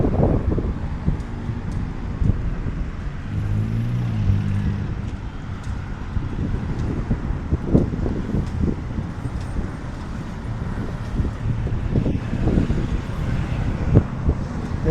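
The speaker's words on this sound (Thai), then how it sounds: "ลมพัดเย็นจัดๆเลย" Cold wind gusting outdoors in front of the Ministry of Defence in Bangkok, a steady rumbling buffet against the microphone with passing traffic noise mixed in throughout.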